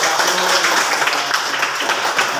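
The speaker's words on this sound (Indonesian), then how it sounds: "kita tepuk tangan dulu untuk kelompok" A classroom of students applauds a presenting group, a loud, dense and continuous clatter of many hands close by, steady throughout without pauses.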